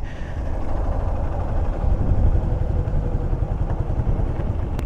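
A Suzuki Gixxer Monotone motorcycle engine runs steadily on 100 ml of octane during a mileage test, a close, even mid-pitched rumble that continues throughout, with no clear shutoff and no talk.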